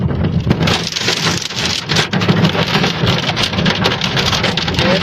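Heavy hail pounds a car windshield during a hailstorm in Heredia, Costa Rica, a loud, dense, continuous clatter of countless impacts with no letup.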